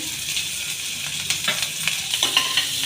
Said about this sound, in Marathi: कांदा टाकायचा आहे कांदा आणि मिरची आपण एकत्रच टाकू